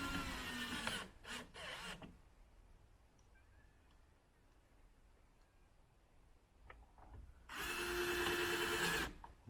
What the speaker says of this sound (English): I'll put these 2 screws in on this side